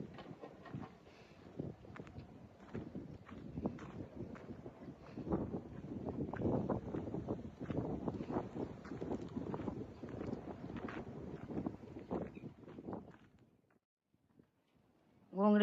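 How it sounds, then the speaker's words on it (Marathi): A strong outdoor wind gusts through trees, rumbling and buffeting in uneven surges that swell in the middle and die away almost to silence near the end. "वारच भरपूर सुटले."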